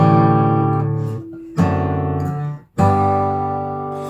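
Acoustic guitar playing a bass line in an alternate position, three strummed, sustained chords each left ringing before the next, close and full, no voices.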